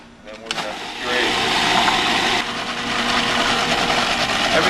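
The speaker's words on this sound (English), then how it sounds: "Every now and then while you're pureeing this, if you want to just stop it and run a spatula around the sides" Blender pureeing hummus with salt and pepper, a motor spinning up to a loud, steady whirring grind close by, with a voice talking over it.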